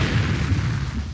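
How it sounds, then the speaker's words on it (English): A car explodes in a low-budget action movie, a loud, dense, low rumbling blast that fills the whole moment with a continuous roaring burst. "That was a spectacular explosion."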